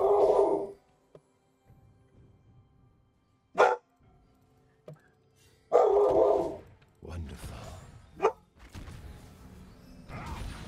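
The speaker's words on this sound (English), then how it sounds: "My dog." A pet dog barks indoors in short separate bursts, loud and close, with quiet gaps and faint background game sounds between the barks.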